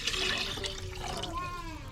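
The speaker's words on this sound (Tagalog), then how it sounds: "Dagdagan muna natin ng tubig pa." Water pours into a pot of Ilocano chicken tinola, a soft, steady splashing trickle heard close by throughout. Faint kitchen noise sits in the background.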